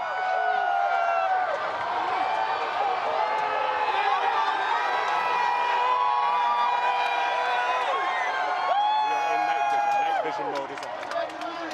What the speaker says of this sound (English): Oh, listen to the cheer